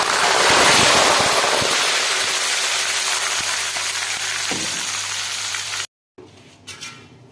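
Salt water poured into hot frying oil for homemade shop-style chips sets off a loud, close, crackling sizzle that slowly eases, then cuts off abruptly, followed by faint clinks and rustling.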